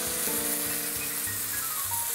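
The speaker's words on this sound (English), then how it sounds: "We got a nice sizzle going." A tilapia fillet sears in hot oil in a pan with a steady, close sizzle and crackle. Low tonal hums sit underneath, and nobody talks.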